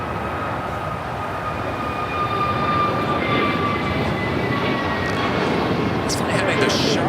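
An airliner takes off at Los Angeles LAX airport, a broad, steady jet roar with a thin whining engine tone that swells slightly and holds, heard from a distance.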